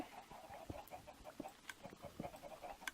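Chickens cluck softly in Minecraft with the Better Than Wolves mod, short repeated clucks at irregular intervals, faint and somewhat distant against quiet game ambience.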